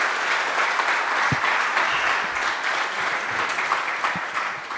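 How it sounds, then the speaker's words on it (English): Steady, dense applause from a talk audience at a Mumbai Dabbawalas presentation, sustained and fairly loud throughout with no voices over it. "Let's hear a big, big, big round of applause for Dr."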